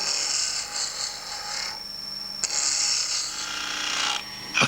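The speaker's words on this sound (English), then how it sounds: "A 3/4 inch roughing out gouge is being used to quickly remove the waste wood." A 3/4 inch roughing out gouge cutting lignum vitae on a wood lathe, producing a steady close rasping hiss in two long passes separated by a brief pause.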